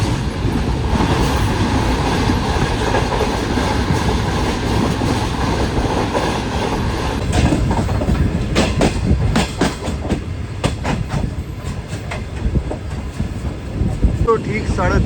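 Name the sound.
Shah Hussain Express train running on the rails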